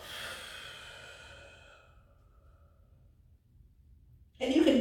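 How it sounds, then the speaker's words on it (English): A deep, slow exhale during a stretching routine, a soft breathy rush close to the microphone that fades gradually into near silence before a brief louder sound at the end. "And exhale."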